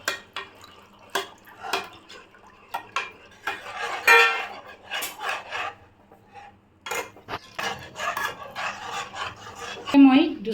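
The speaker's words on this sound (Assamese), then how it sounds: "গাখীৰ দি অলপ দেৰি এনেকৈ ধৰণে লৰাই দিম, যাতে পিঠাগুড়িখিনি তলত গোটা মাৰি নাযায়" Fried rice flour is stirred with milk in a pan for a mango pudding, with intermittent scraping and rubbing strokes of a spoon against the pan, close and uneven.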